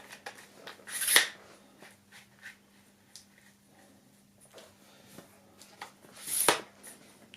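Two sharp clicks and scrapes about five seconds apart, with faint handling sounds between them, as the small locking parts on the leg of a Mactrem Arcadia AT64 64.5-inch camera tripod are unscrewed and the leg is folded out, close up and quiet.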